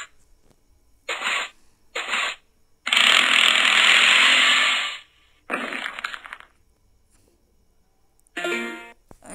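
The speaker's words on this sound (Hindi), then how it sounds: "ड्रिल यूज करते हैं।" A drill whirs in bursts inside a video game, harsh buzzing blasts, one long sustained grind in the middle, separated by silence.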